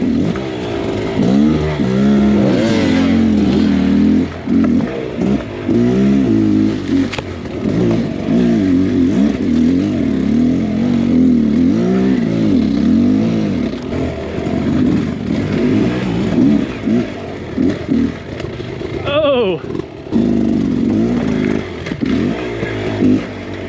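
Several motorcycles revving hard and holding throttle while riding off-road on a demanding trail, engines loud and close with continuous rising and falling pitch, occasional clatter and scrape.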